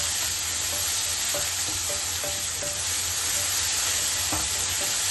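Chopped garlic and onion fry in a pan for spinach poriyal, producing a constant close sizzle broken by light spatula scrapes and clicks, no talking.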